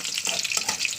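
Onion dropped into hot white oil in a pan sizzles briefly, a close hissing crackle in short bursts, with no talk.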